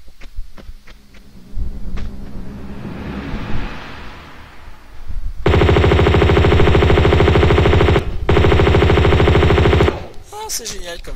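Sustained automatic gunfire from a weapon in Tomb Raider 2, a loud, steady rapid-fire burst lasting several seconds with a brief gap, following softer ambient rumble and scattered clicks.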